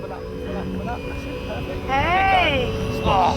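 A radio-controlled model plane's small engine drones steadily, rising in pitch and loudness as it climbs, while a person talks over it.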